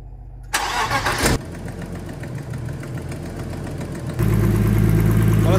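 A car engine, recently opened up and suffering a knocking fault, cranks and catches loudly after a brief silence, then settles into a steady close idle with a rattling clatter that grows heavier near the end.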